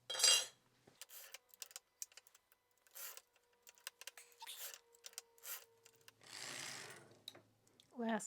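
A circular sock machine knits a cycling sock with Lycra, giving quiet, irregular mechanical clicks and clacks, then a longer rattling whir of the crank turning near the end.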